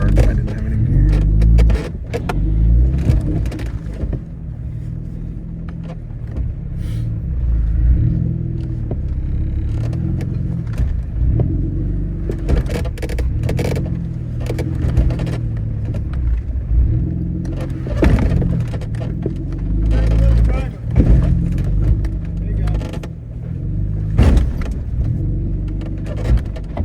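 A Jeep off-roading on Holiday Hill, its engine rumbling steadily and close, with repeated clunks, rattles and jolts from the body and suspension as it crawls over rough ground.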